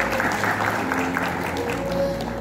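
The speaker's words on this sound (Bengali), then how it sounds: "সেটার জন্য একটা জোরে হাততালি মানুষের" Audience applause at the Bharat Dignity Award 2022 ceremony, a steady wash of clapping filling the hall for about two and a half seconds, fairly loud, with tonal music or voices faintly underneath.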